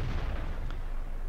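A rocket fired in the World of Tanks online tank game, heard as a single low booming blast that rolls on as a rumbling tail at fairly close range.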